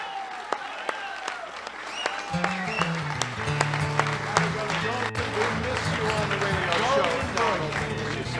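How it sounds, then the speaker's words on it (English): Sustained applause from a large convention crowd at a Conservative Party of New York political event, dense and steady for the whole stretch, with a low droning tone entering partway through beneath the clapping. "Another round of applause"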